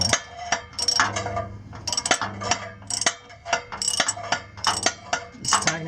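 A ratchet tightens a catalytic converter bolt on a 2004-2009 second-generation Toyota Prius, giving repeated bursts of sharp metallic clicking in an uneven rhythm, close and clear.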